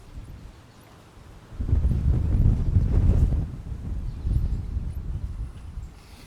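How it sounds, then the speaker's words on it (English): Gusty wind rumbles and buffets a microphone, swelling louder midway and then easing off into a steady low roar. "it is windy here today too"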